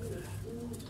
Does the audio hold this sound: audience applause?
no